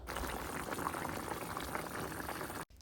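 Hilsa fish curry broth with potato and pointed gourd bubbling steadily in a pot, a close, continuous boiling sizzle with dense bubbling that runs unbroken before cutting off abruptly near the end.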